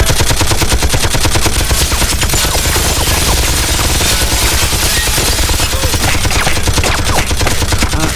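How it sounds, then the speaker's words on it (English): Rapid, relentless automatic gunfire from security guns in the video game Project IGI, loud and dense with no pauses throughout. "Security guns are currently active."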